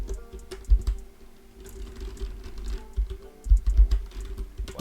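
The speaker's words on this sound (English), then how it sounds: "The first item I'm going to type" Keys on a computer keyboard clatter in quick, uneven bursts as an item name is typed into a PHP point-of-sale inventory system, close and clear with no talking over it.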